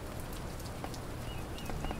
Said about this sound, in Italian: Un po' di pioggerellina.